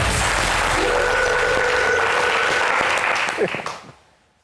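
A television studio audience applauds on a variety show, loud sustained clapping that thins out and fades to near silence by the end, with voices faintly audible underneath.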